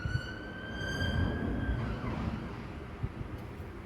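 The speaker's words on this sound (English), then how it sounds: "So, more sirens." A wailing siren with a steady, falling tone sounds from a distance, fading against a low background rumble, with no voices.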